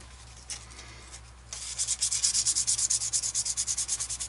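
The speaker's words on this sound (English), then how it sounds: "Right, sandpaper. Give me sandpaper." An archtop guitar bridge is sanded with 600-grit sandpaper: after a couple of light scuffs, a steady run of quick, rhythmic back-and-forth strokes, close and fairly quiet.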